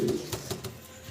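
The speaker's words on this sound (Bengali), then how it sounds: "জিরো ফেদারের বাচ্চা চিচি করে ডাকতে আছে, সাদা প্রমিনিয়ান পটার।" A featherless white Pomeranian pouter pigeon chick gives a few short, close cheeping calls in quick succession, lasting about a second.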